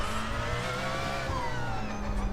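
A Porsche 919 LMP1 race car in the iRacing simulator holds a loud, steady engine drone with shifting pitch as the car slides, continuous and up close with no voices.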